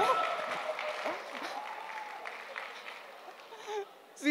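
A school audience claps and cheers for a student speaker at a leaders' speaking event, a burst of applause and crowd noise that fades and swells again near the end.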